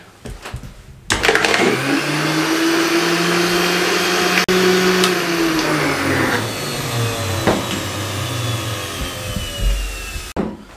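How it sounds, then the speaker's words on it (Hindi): A juicer blender jug grinds plums for plum juice, starting abruptly and whirring loudly and steadily for nearly ten seconds before cutting off. "हम इसको इस तरीके से जग में शामिल कर देंगे, जूसर वाले में। कवर लगा देंगे, इसको ग्राइंड कर देंगे।"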